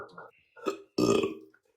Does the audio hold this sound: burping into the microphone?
yes